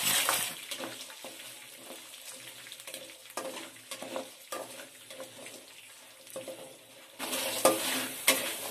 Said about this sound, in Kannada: ಕಡಲೆಕಾಯಿ ಬೀಜ ಇಷ್ಟು ಫ್ರೈ ಆದ್ಮೇಲೆ ಕರಿಬೇವು ಹಾಕೊಳ್ತೀನಿ